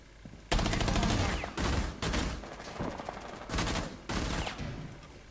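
Bursts of automatic gunfire in Rainbow Six Siege, loud and close, coming in several sustained volleys separated by short gaps, with no talking.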